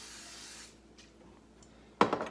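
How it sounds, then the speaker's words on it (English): Cooking spray hisses briefly into a small skillet, a short close burst followed by quiet and then a sharp clatter. "we're gonna line it with some cooking spray"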